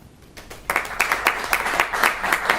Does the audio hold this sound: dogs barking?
no